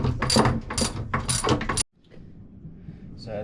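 A ratchet wrench clicks in quick bursts while loosening the last bolt on a boat cockpit floor, loud and close for nearly two seconds, then stops and leaves faint handling noise.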